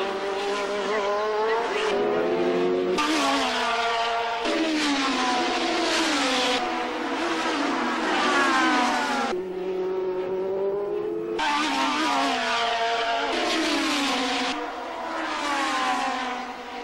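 Several 1987 All Japan F3000 race cars scream past at Fuji Speedway, engines rising and falling in pitch as they pass close by in loud waves, with a continuous high-revving roar and no speech.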